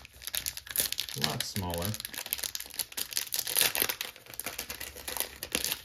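A foil Optic hanger pack of NBA trading cards is crinkled and torn open, its crisp rustling running steadily under someone talking nearby.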